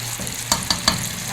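Tomatoes and masala frying in a pan for a brain masala dish, a steady close sizzle broken by three quick stirring scrapes.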